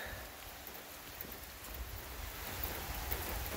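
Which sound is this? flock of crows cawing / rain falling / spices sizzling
rain falling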